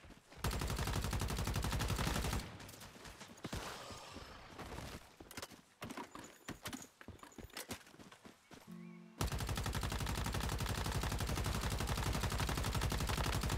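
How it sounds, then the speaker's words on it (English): Sustained automatic machine gun fire from the video game Once Human rattles in loud, continuous bursts, breaks into scattered shots and clatter midway, then resumes as heavy unbroken fire. "Dude, this machine gun does work."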